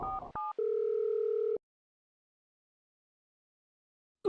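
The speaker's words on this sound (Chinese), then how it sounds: "我看还是赶紧打电话叫120吧，不然秦先生的命可就危险了。" A telephone handset sounds a few short touch-tone dialing beeps, then a single steady tone for about a second before falling silent, placing a call to emergency number 120.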